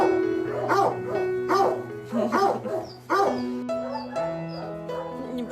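Big dog barks repeatedly in close, loud, rhythmic woofs, with higher yips and whimpers from smaller dogs mixed in and a few voices talking.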